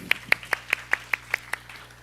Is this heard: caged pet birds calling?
no